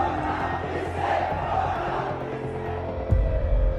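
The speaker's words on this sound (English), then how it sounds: "demonstrators stormed several government buildings, including the president's home and office" A large crowd of Sri Lankan protesters storming the president's home and office, a dense continuous roar of shouting voices with a sudden louder surge near the end.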